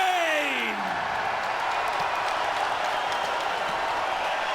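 A London crowd at a 2022 PFL Playoffs mixed martial arts event cheers and applauds a unanimous-decision winner, a loud, steady wash of clapping and whoops filling the arena throughout.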